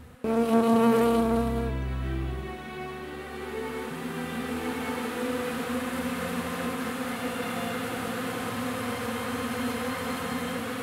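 Honeybees buzzing: a steady, layered drone of many wings holds throughout, with a louder near pass in the first couple of seconds before settling into a continuous hum.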